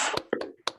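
Three sharp, separate hand claps from the tepuk sate clapping game in a classroom teaching session, close and crisp with brief gaps between them and faint talk before the first.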